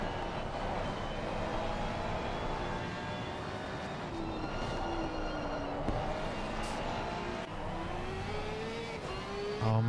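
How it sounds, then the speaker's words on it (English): A Porsche GT3 race car engine in a racing video game at Laguna Seca, rising and falling through gear changes and revs, with other car engines blending into a continuous loud drone. "just listen to that noise of the Porsche"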